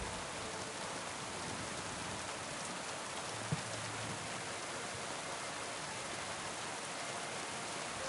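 Steady rain in the video game Kingdom Come: Deliverance II hisses evenly throughout, a constant wash of falling water with one small knock near the middle.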